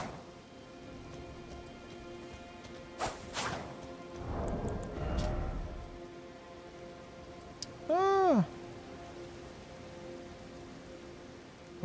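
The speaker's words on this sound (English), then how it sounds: "It rains way more in the DLC" Rain in the Elden Ring DLC falls as a steady soft patter of drops, with brief swishes and a faint chirping sweep layered over the continuous wash.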